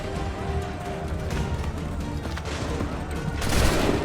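Musket volleys crackle in a colonial-era battle in Assassin's Creed 3, a dense fusillade of overlapping shots with a heavier burst near the end, set among in-game battlefield din.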